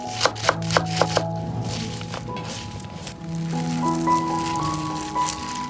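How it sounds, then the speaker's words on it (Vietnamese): Lettuce and coriander chopped finely on a board: a few quick knife taps up front, then faint chopping under a background of sustained musical tones, close but soft. "Thái nhỏ ra như thế này."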